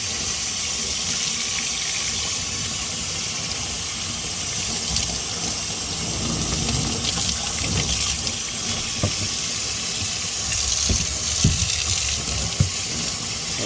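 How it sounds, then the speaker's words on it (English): Warm water pours steadily from a sink tap to rinse a bleached deer skull, a constant close hissing rush with occasional splashes and knocks as the skull is turned under the stream, and no voices. "I use a warm water, not hot. Get this dumped off here. And then rinse it out."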